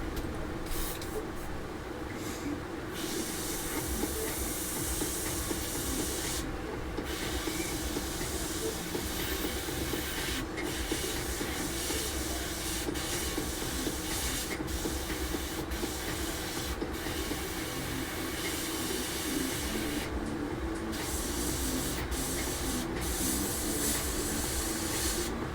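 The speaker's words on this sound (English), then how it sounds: "Basically just drawing lines, right? Except you're doing it with an airbrush." An airbrush sprays paint onto a 1/48 Zvezda Su-57 model kit, giving a steady, continuous airy hiss that runs throughout with brief dips in intensity.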